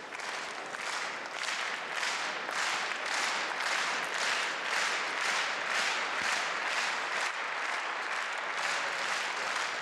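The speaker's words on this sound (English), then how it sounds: "Crowd supporting Samsonov" A table tennis crowd at a men's singles final claps steadily in unison, a loud rhythmic wave of applause repeating at an even pace throughout.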